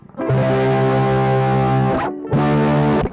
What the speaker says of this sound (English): So this is our distorted tone.